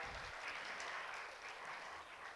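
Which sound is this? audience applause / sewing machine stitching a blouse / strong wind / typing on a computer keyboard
audience applause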